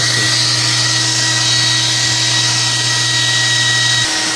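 A hair blower roars continuously at close range with a steady hum and whine while defrosting the iced-up evaporator coil of a walk-in freezer, then stops abruptly near the end.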